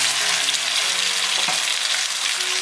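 Oysters and pickled mustard greens in a pan with a freshly mixed sauce poured over, a loud, steady hiss of sizzling, close up and continuous with no voices.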